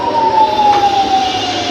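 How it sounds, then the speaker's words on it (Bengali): An ambulance siren wails on a Dhaka street near Chankharpul close to Dhaka Medical, a loud sustained tone with slight pitch drift over steady traffic rumble. "বেশ অ্যাম্বুলেন্স যাচ্ছে, তাদের আওয়াজ পাচ্ছেন আপনারা"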